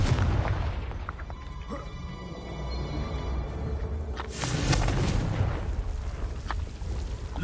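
In the video game Hogwarts Legacy, a Confringo fire spell bursts inside a coastal mine, giving a deep boom with rumbling debris. The blast sits moderately loud against the game's background noise.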